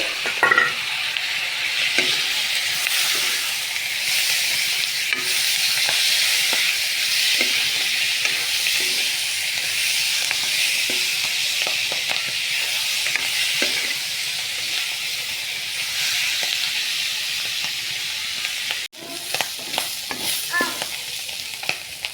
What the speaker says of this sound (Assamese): আমলৈটো ভাজি আছোঁ।